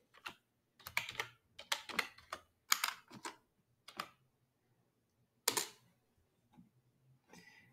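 Someone types a short command on a computer keyboard in a bash terminal: close, quiet bursts of clicking keystrokes in irregular clusters separated by short pauses.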